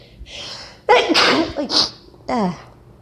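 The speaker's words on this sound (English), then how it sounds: "Oh, I need to sneeze." A single sneeze bursts out loud and close after a sharp inhaled gasp, followed by a short trailing breath, in a quiet indoor setting during a casual tree-drawing session.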